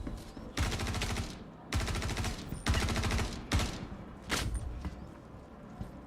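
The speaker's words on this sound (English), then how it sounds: "Why are they shooting at me?" Rapid automatic gunfire in Star Citizen comes in four long, loud bursts separated by short pauses, with a brief final shot near the end.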